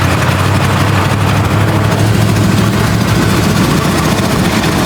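A 52-year-old vintage Jeep Wagoneer engine runs rough while driven, a loud, steady low rumble close to the mic with no talk over it.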